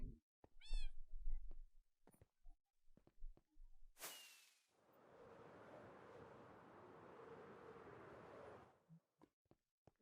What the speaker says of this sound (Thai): พาแมวมานะครับ